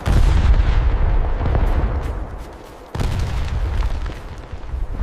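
Mortar bombardment rolls on in heavy, booming explosions mixed with distant gunfire, a loud continuous wartime barrage with one sharp new blast about three seconds in.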